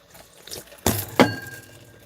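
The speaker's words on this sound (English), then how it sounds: "I got to get some water." A glass clinks and water pours in two short, close bursts, with quiet room sound between them.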